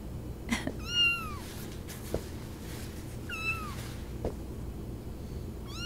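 A cat meows twice, clear rising-and-falling cries about two seconds apart. A few faint clicks and soft thumps sit in the quiet room around them.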